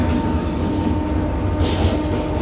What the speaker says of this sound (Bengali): আমাদের ট্রেন প্রবল গতিবেগ নিয়ে ক্রস করছে টিটাগড় রেলওয়ে স্টেশন